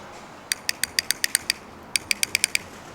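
Madtrace magnetic paddle shifters on a BMW G30 click crisply and close up, about seven sharp clicks in a quick run, a short pause, then another rapid run of about six, loud and clear against quiet background.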